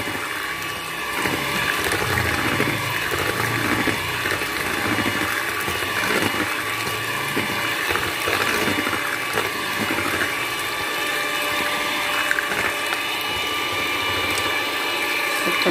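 An electric mixer whirs steadily, beating 150 ml of egg whites for Palembang tekwan, a continuous mid-level mechanical drone with a faint rattling texture throughout.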